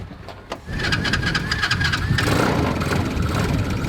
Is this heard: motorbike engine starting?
yes